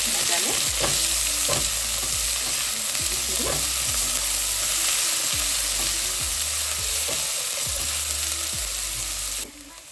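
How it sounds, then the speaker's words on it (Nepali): Onion, ginger and garlic fry in a pan for vegetable thukpa, giving a constant loud sizzle, while a utensil scrapes and stirs in repeated strokes. "यसरी प्याज भुटिसकेपछि चाहिँ यो जिन्जर गार्लिक यो पनि यसरी लगाइदिने। यसलाई पनि भुट्ने"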